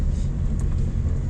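A 1968 Chevrolet Biscayne rumbling past at night, a steady low engine drone close by with no voices over it.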